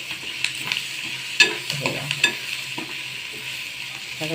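Onion fries in a pan with a soft sizzle and scattered scraping and stirring clicks from a spoon, heard close and fairly quiet.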